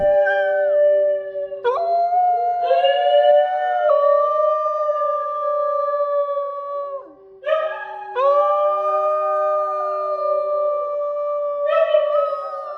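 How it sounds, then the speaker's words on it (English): A New Guinea singing dog howls in long, sliding, tonal wails with dramatic pitch swoops, several drawn-out calls in succession, loud and close. "They produce complex, modulated howls with dramatic pitch changes that sound eerily similar to humpback whale songs"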